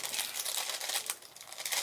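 Red and black tissue paper crinkles as it is unwrapped from a GlossyBox subscription box, a soft, close, continuous rustle with small bursts of crackling and no talking.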